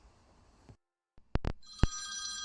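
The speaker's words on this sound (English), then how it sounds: "a mobile phone, or cell phone for my American viewers, began to ring" A mobile phone starts ringing after a moment of near silence, opening with two short chirps and then settling into a steady bright electronic ring that carries on loud and close.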